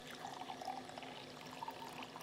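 Hot water pouring into a cup in the Barista Sim video game, a quiet steady trickling stream with a faint hum underneath.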